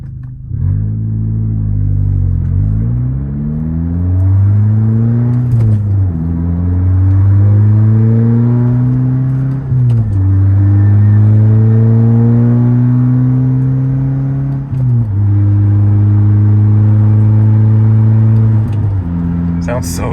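Volkswagen Golf R engine pulling through gears while driving, a loud close rumble that rises in pitch, drops at each shift and climbs again, repeated several times in steady cycles.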